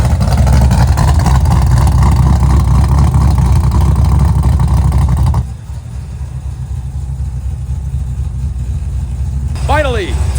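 A rebuilt 1,100 horsepower small block Chrysler engine runs loud and steady in a car, a dense continuous roar that drops abruptly to a lower idle midway, with people talking over it.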